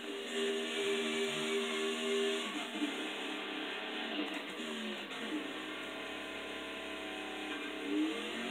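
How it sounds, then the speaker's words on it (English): Car doing a burnout in a racing video game: a mid-pitched engine revving and wavering up and down, fairly quiet, with pitch sweeps as it strains, then settling to a steadier drone. "And time to do a fun burnout."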